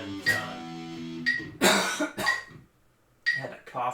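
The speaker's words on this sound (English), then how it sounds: "I had to cough like that all the time." A few loud, harsh coughs in quick succession, close up, with a short pause and then another burst of coughing.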